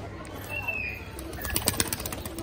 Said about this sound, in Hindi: ये सब कबूतर मेरे उड़ते हैं।